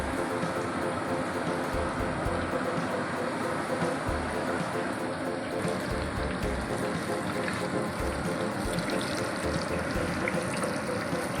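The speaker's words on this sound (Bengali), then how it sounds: "এবার গরম তেলের মধ্যে মোটামুটি চিলি চিকেনের পকোড়াগুলো দেওয়া হচ্ছে একটা একটা করে।" Chilli chicken pakoras made with arrowroot, flour and egg are dropped one by one into hot oil at a neighbourhood puja food stall, giving a steady, dense sizzle and crackle throughout with a constant bubbling hiss.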